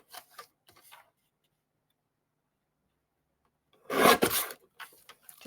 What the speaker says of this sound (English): So we need to cut a little piece off the bottom there